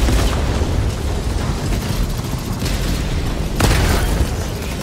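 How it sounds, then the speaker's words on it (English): A 380mm artillery barrage pounds the battlefield in the video game Helldivers 2, a continuous roar of heavy booms and rumbling blasts with sharper impacts standing out near the end. "Sending out a 380mm barrage."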